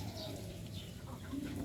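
Racing pigeons coo softly behind their loft, low and faint, with steady background noise and no clear talk.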